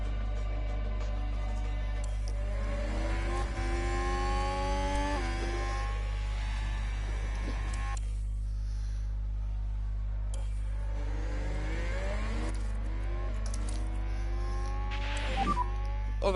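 Race cars in the F1 Manager 22 video game, engines whining upward through repeated gear shifts as cars pass, a steady layered roar of several cars with rising and falling pitch sweeps.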